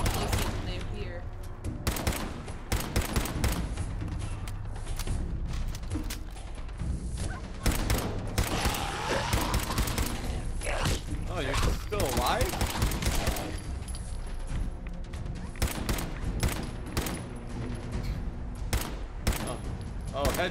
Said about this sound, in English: I'm gonna use the sniper.